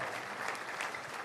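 Audience applause at The Platform Nigeria national event on 1 October 2025, a dense, steady wash of clapping hands held at an even level for the whole short stretch, with no distinct individual claps standing out.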